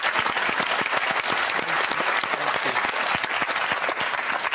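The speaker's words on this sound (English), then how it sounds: "Give her a round of applause." Studio audience applause on a TV game show's 30th-birthday championship grand final, a dense, steady roar of many clapping hands sustained loud throughout, with no talk over it.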